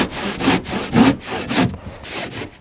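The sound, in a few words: hand saw cutting insulation board along timber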